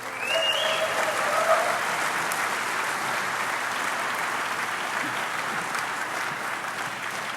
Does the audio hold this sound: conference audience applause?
yes